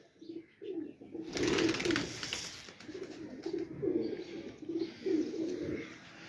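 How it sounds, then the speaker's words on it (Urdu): Pigeons kept on a rooftop give a string of low, repeated coos at close range, with a brief rush of flapping wings partway through. "یہ سارے خطرناک کبوتر ہیں"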